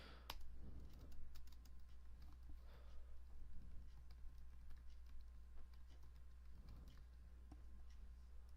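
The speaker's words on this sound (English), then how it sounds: "Now, I'm just gonna write hello world here." Keystrokes on a computer keyboard typing a short line of text into Notepad, faint scattered taps over a steady low hum, with no talking.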